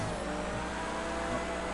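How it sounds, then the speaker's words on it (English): Sustained car engine drone with rising revs from a racing car in GTA Online, heard alone and at moderate level. "The Adder's meant to be the fastest car in the game."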